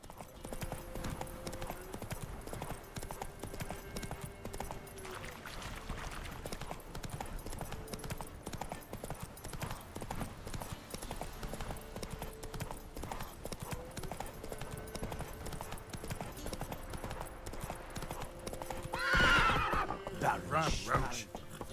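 Roach the horse in The Witcher 3 gallops with steady clip-clop hoofbeats throughout, then a loud neigh bursts out near the end, with game music and occasional voices underneath.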